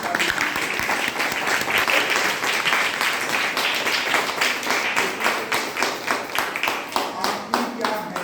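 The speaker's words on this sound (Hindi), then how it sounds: "जोरदार दिल से ताली" Loud, close applause from an audience at a program in Gorakhpur, many hands clapping densely and then settling into a more rhythmic, unison beat toward the end, with some voices mixed in.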